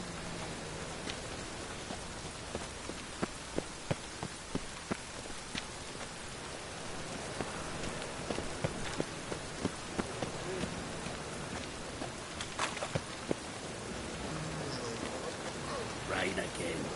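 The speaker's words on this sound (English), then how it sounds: "Rain again." Steady rain falls throughout a console video game scene, a dense continuous hiss with scattered sharper drops and taps, moderately quiet, with faint game sounds and brief voice bits mixed in.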